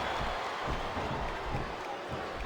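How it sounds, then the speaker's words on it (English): A capacity arena crowd roars steadily in the WWE SmackDown! vs. Raw 2007 video game, a dense continuous wash of cheering and applause with slight swells, no voices standing out. "It sounds like this capacity crowd has something on their minds, Taz."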